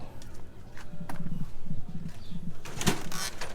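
Rhode Island chickens at feeding time give soft, low clucks and murmurs in short repeated bursts, with a louder squawk near the end, heard close up.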